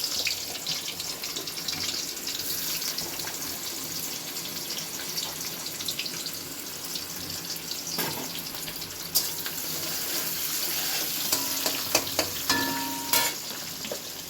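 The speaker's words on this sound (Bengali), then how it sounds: "তেল গরম হয়ে গেছে, এবার দিয়ে দিলাম পেঁয়াজ" Onions hit hot oil and fry with a loud, steady, close crackling sizzle that keeps going throughout, broken by a few clinks and scrapes of a utensil.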